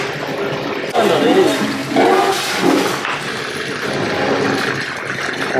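Basmati rice being rinsed by hand in a pot of water for chicken dum biryani: steady sloshing and swishing splashes run close and loud throughout, swelling in a few stronger surges, with a voice faintly audible in places.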